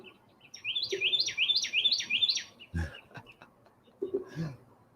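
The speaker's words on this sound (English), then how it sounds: "I think that red finch is like cruising around with a Bluetooth tapped into my feed. That is a loud bird." A red finch chirps loudly outdoors in a rapid series of bright rising whistled notes, followed by a sharp knock and a shorter burst of calls, with faint background noise.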